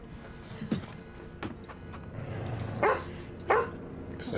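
A frightened dog in a TV drama gives a few short yips and whimpers between quieter stretches, faint under background scene noise.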